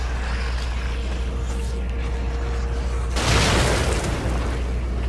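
A grenade explosion in the horror video game The Evil Within: a heavy boom bursts in about three seconds in, rising above a constant low rumble of game ambience, with a brief noisy tail.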